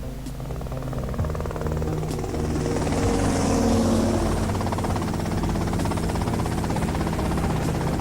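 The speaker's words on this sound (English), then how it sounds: "that's them in the chopper" Helicopter flying in the video game GTA Vice City: a steady, loud rotor and engine drone with a buzzing tone, holding at an even level throughout with no talk.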